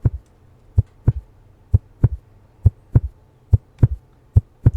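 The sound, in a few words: heartbeat sound effect of an anxiety mechanic in an Unreal Engine game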